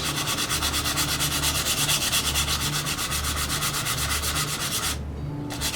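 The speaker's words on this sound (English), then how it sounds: "we're going to sand that down and make it nice and smooth" Steady rhythmic back-and-forth sanding of a wooden snow snake, loud and close, a continuous rasping rub with even strokes that briefly dips near the end.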